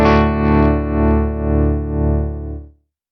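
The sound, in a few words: Morgan Amps Suite tremolo, sync mode at 120 BPM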